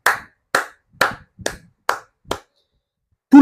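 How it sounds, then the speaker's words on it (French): At a political rally speech, hands clap six times at a slow, even pace, each clap crisp and close. Silence follows after the last one. "Applaudissons pour nous-mêmes."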